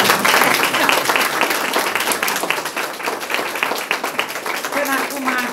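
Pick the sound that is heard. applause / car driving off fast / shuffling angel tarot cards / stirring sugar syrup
applause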